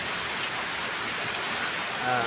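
Steady rain falls close by, a dense, even patter of drops on a surface with no pauses.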